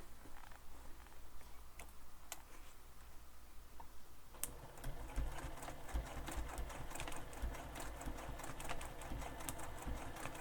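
A sewing machine back stitching a zip onto a backpack, starting with a few sparse clicks and then running as a loud, steady, rapid mechanical chatter that continues to the end.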